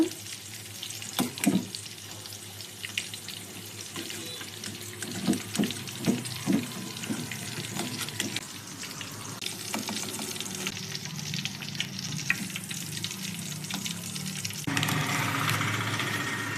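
Eggplant fritters (bajji) deep fry in hot oil with a soft, continuous sizzle and bubbling, broken by occasional clinks and stirring noises from nearby kitchen work, with no talking.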